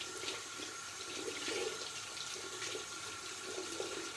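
Tap water runs steadily in a bathroom while a sponge rinses a face mask off the skin, a continuous close splashing hiss with no speech.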